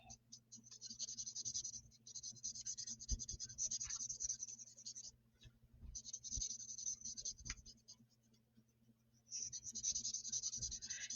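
Marker or pencil coloring a die-cut paper shape, steady scratchy scribbling strokes in several long bursts with brief pauses, quiet and close.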